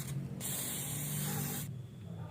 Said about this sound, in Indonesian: disemprot lagi dengan menggunakan injektor cleaner